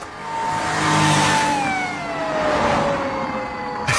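Police siren wailing with a falling, drawn-out tone, loud and steady amid passing traffic noise, no talk over it.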